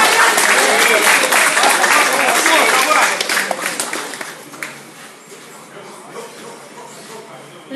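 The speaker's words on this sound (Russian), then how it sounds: "Аплодисменты бойцам!" An audience claps for fighters at a combat sports bout, with loud, dense applause for about three seconds that then thins and fades. Voices shout over the clapping.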